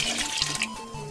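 Water poured from a measuring cup into a pot of chili, a short liquid splash and trickle filling the pot up close, with no talking.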